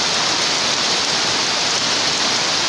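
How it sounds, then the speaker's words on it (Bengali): Heavy monsoon rain pours down steadily during flooding around village houses, a dense, continuous close hiss with no breaks and no voices. "দেখুন বৃষ্টির গতিটা দেখুন"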